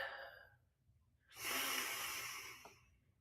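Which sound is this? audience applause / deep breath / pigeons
deep breath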